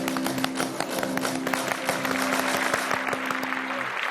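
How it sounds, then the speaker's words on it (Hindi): Applause played on a television game show with no live audience: steady, dense clapping with a faint tonal hum running beneath. "भरपूर तालियों के साथ"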